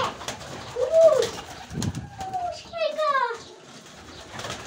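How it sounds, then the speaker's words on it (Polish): Pigeons, including a homing pigeon, coo in soft rising and falling phrases, several calls close by, with people talking intermittently around them. "Jak te gołębie cię widzą, to normalnie szał dostają."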